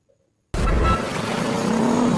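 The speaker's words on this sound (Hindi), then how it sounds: "अब हम आपको अपनी पृथ्वी की आवाज को सुनाएंगे, जो हमें धरती पर बैठकर नहीं सुनाई देती है।" Recorded sound of the Earth from space: after half a second of near silence, a dense, roaring rumble bursts in abruptly and holds steady like a deep, wind-like whoosh, loud and continuous with no voices.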